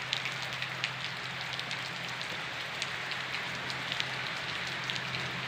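Steady rain pours over rice fields in Buachet district, Surin, a dense even hiss with scattered drop taps, no voices, and a low constant hum underneath.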